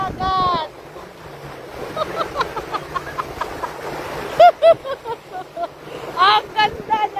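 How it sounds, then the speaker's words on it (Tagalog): Sea waves washing onto the shore at a Dubai beach, a soft, steady surf wash underneath intermittent voices talking nearby. "May alon ang dagat"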